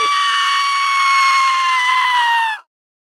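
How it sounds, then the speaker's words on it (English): A goat screams in one long, loud, high-pitched bleat that holds steady and then cuts off abruptly, followed by silence. "it's a goat and it screams"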